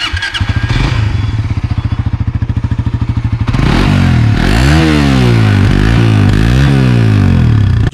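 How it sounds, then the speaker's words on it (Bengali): A Suzuki GSX-R150 motorcycle engine idles with a loud, rapid thumping exhaust pulse, then revs up and down several times in rising and falling bursts, close and alone without any talking. "ওয়ান অফ দ্য বেস্ট একটি এক্সজস্ট এন্ড এটার যে সাউন্ড এত স্মুথ"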